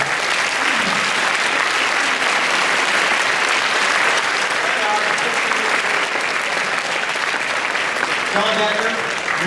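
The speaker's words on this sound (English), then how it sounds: "Yeah, we'll clap." Steady, loud applause from a crowd at a high school Veterans Day ceremony, continuous clapping that fills the whole stretch without a break.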